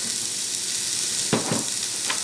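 Chopped onion sizzles steadily in a little avocado oil inside an Instant Pot, a constant loud frying hiss, with a couple of soft thumps as pieces drop or get stirred.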